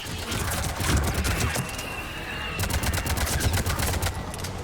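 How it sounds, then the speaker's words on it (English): A missile salvo firing in the video game Mass Effect 3: rapid repeated launch bursts and blasts in dense succession, loud and continuous, with crackling and rumbling throughout. "Firing another salvo."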